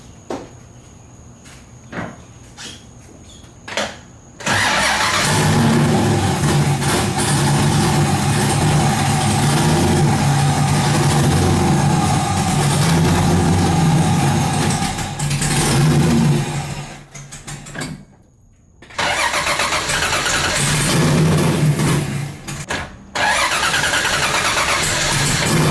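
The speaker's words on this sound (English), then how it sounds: "let's go ahead, start up the 240, roll her out of the garage, and hope that nothing blows up" An LS3 V8-swapped Nissan 240SX S13 fires up inside a garage with a starter crank and sudden roar, then settles into a loud, lumpy idle and rumbles as it rolls out, briefly cutting out before restarting.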